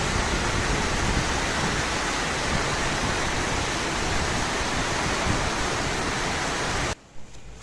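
Sudden strong storm wind gusting like a whirlwind, a loud, steady broadband roar that holds for about seven seconds and then cuts off abruptly, leaving near-silence with a brief faint rustle.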